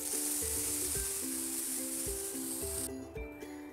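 A spoonful of butter melts into a little hot refined oil in a pan, producing a soft, continuous sizzle with a steady hiss that thins out near the end.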